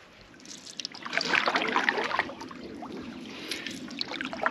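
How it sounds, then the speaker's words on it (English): A canoe or kayak is paddled along a sandy river shoreline at Constance Bay in the Ottawa Valley. Close, soft water swishes and trickles rise and fall with each stroke, with no talking. "As I paddle along the shoreline here"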